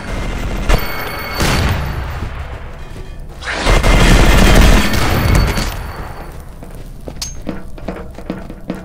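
Turret gunfire in the video game E.Y.E. Divine Cybermancy, with loud bursts of automatic fire and booming impacts in several waves, trailing into scattered single shots and thuds.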